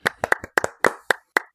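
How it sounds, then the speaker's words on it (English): A single person gives a light golf clap, eight sharp, close hand claps in an uneven, unhurried rhythm, with no talking. "Golf clap for you, sir."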